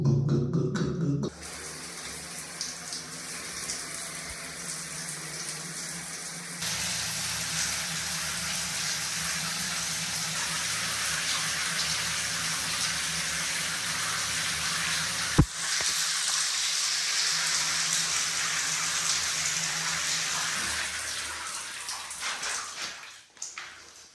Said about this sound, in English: That water has a lot of trouble getting away.